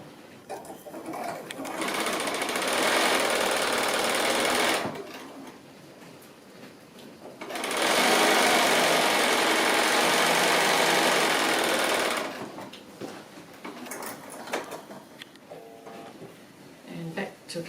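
A sewing machine stitches patchwork strips for a braid or chevron design in two loud, steady bursts of whirring, separated by a pause and followed by quieter handling noise.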